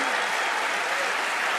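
Studio audience applause on the TV magic show Penn & Teller Fool Us, a dense, steady wash of many hands clapping at full volume with no break across the short stretch.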